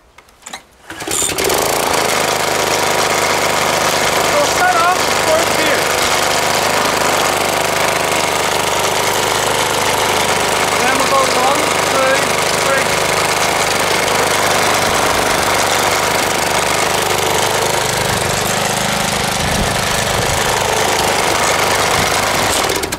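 A John Deere JS63C self-propelled lawn mower starts and runs through its gears, its engine roaring loud and steady up close for over twenty seconds.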